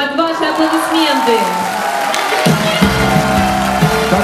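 Audience at the SMG Awards 2015 ceremony applauds and cheers as a rock band is introduced, a loud steady wash of crowd noise with music entering partway through.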